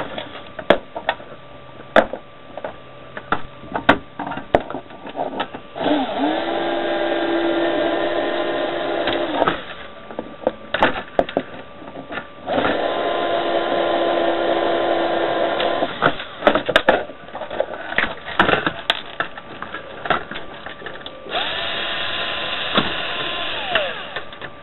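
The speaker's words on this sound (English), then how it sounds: "I'm using this electric screwdriver because obviously it's going to be a long video otherwise" Electric screwdriver removing the power converters from fluorescent light fittings during an LED conversion, heard as three sustained whirring runs of several seconds each between quieter clicks and handling noises, close and alone.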